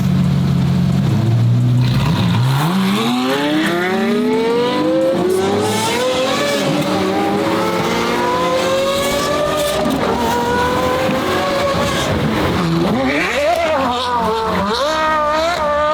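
A powerful car engine roars and revs hard, climbing steadily in pitch through the gears, loud and continuous with a brief dip before surging again.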